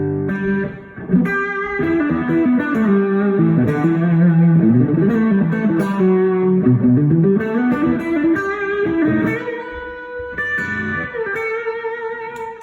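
Electric guitar played through a Maxon OD-9 overdrive pedal into a small 50-watt Divimark amp head and a Blackstar 2x12 cabinet, with reverb: sustained, loud overdriven chords and melodic lines ringing continuously with no talking.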